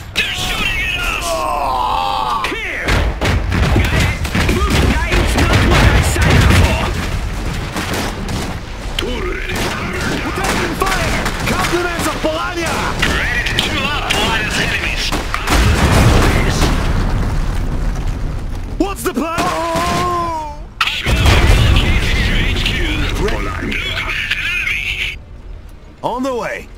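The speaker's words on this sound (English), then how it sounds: "They're shooting at us!" A battle in the real-time strategy game Iron Harvest, Polania against Rusviet, with booming explosions and clattering gunfire mixed with unit voice lines throughout.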